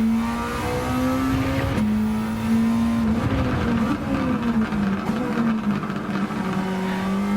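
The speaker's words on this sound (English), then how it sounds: "for the little engine that this thing has, it sounds phenomenal" Alfa Romeo Spider in Gran Turismo 7 with its small engine revving steadily and loudly close up, the pitch dipping at gear changes and rising again under acceleration, without talk.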